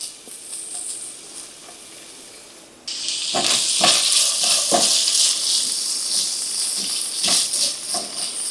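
Diced pancetta frying over medium-low heat without added oil gives a soft sizzle that jumps into a louder, steady crackling hiss, with occasional stirring scrapes across the pan.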